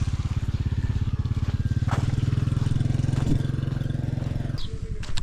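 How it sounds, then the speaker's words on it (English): A motorcycle engine rumbles loud and close on a humid morning street walk in the Philippines, a steady throbbing drone that holds for several seconds before dropping off near the end, with faint street clatter behind it. "Motorcycle."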